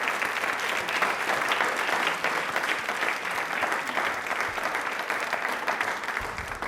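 A studio audience at a televised quiz show in Rajasthan breaks into steady, dense applause that holds at an even level throughout, with no voices over it.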